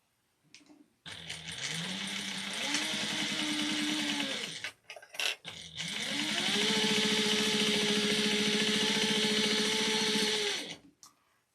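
A sewing machine back-stitches folded fabric for a crossbody bag in two steady motor runs, each rising in pitch as it speeds up, separated by a brief pause, with no talking.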